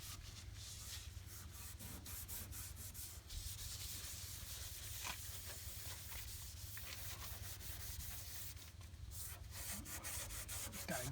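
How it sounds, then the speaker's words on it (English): Rusty metal that has soaked in vinegar is scrubbed continuously, making a rough, gritty rubbing sound that stays loud and close, with brief shifts in pressure and no pauses. "Just gonna go keep scrubbing along a little bit here."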